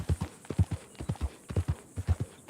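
Horse hooves clip-clop steadily in Red Dead Redemption 2, a close, even trotting rhythm of paired dull knocks with no other sounds.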